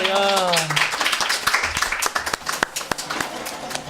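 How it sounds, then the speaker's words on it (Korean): A small audience at a book talk show lecture on writing self-introductions gives a short burst of scattered clapping. A few distinct claps ring out over a few seconds after a voice speaks at the start. "박수 한번 주세요"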